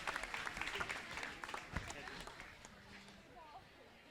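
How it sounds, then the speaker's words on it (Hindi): Audience clapping in a welcome at a university Holi festival celebration, a dense burst of hand claps that is strongest at the start and gradually thins and fades, with some voices underneath. "हम सब भी अपनी तालियों के माध्यम से एक बार पुनः से स्वागत अभिनंदन करें"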